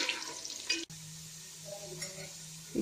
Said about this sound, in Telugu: ఉల్లిపాయ ముక్కలు వేసుకొని గోల్డెన్ బ్రౌన్ కలర్ వచ్చేంత వరకు ఫ్రై చేసుకోవాలి